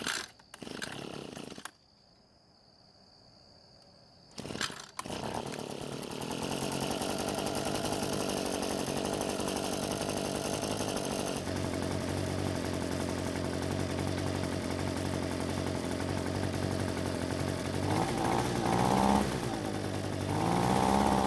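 An Echo leaf blower's two-stroke engine is pulled over, sputters briefly, then catches and runs, droning loudly and steadily close by and rising in speed near the end.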